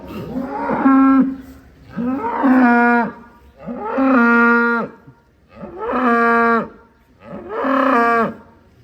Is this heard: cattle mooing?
yes